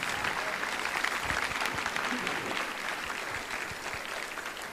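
A church congregation applauding, a broad continuous roar of many hands clapping at moderate level, steady for the whole stretch, with faint crowd murmur mixed in.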